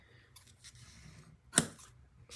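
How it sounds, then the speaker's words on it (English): Scissors snip through a strip of ribbon on a handmade greeting card with a heart stamp, one short sharp cut standing out near the middle against quiet crafting background. "Let me just trim off that ribbon here."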